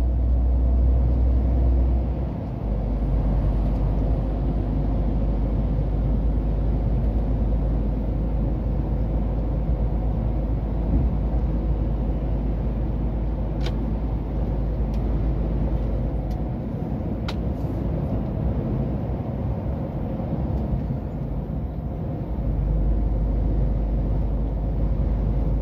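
A car drives through rush-hour traffic on the Bordeaux ring road, its engine and tyre roar loud and steady throughout, with brief dips in the low rumble.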